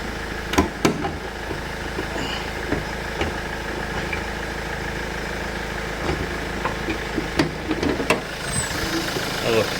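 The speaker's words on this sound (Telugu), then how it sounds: "ఇంజన్ సౌండ్ కూడా దీనికి W10లో W8 ఫస్ట్ వస్తుంది" An automatic car's engine idles steadily at close range, a constant low rumble with a few faint knocks and clicks over it.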